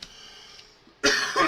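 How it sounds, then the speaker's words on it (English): A faint throat sound trails off, then a single loud, harsh cough bursts out close by. "I just can't stop coughing."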